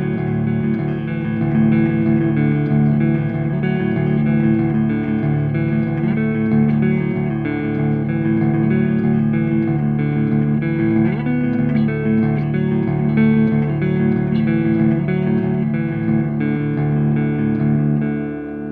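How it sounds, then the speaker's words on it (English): A PRS P22 electric guitar is played on its neck pickup with a clean tone, producing steady sustained chords and notes with some reverb and no voices over it. "And back to the electric sound. Neck pickup."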